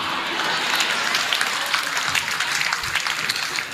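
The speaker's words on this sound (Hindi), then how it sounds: "और जिस तरीके से पिंटू जैन जी की पत्नी ने ताली बजाई है" Audience at a Holi special Hindi comedy poetry show breaking into applause, a dense patter of many hands clapping steadily at moderate loudness before it tapers slightly near the end.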